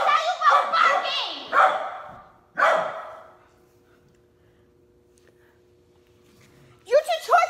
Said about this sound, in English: What did I tell you about barking?